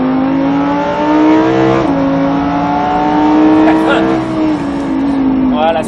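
A Lamborghini Huracán accelerates on a race track at Mérignac, its engine a loud, close tonal roar that climbs in pitch, dips with a gear change and rises again, with an instructor talking over it.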